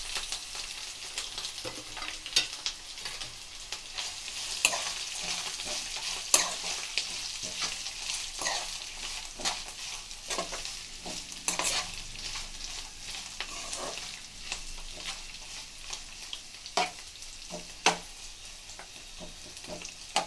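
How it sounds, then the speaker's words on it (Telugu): Chopped bitter gourd pieces fry in a pan with a continuous close sizzle, punctuated by frequent scraping and clattering stirs of a spatula, with no talking. "ఇప్పుడు వీటిలోకి అయితే మనం ముందుగా కట్ చేసి పెట్టుకున్న కాకరకాయలను అయితే యాడ్ చేసుకుంటున్నాం"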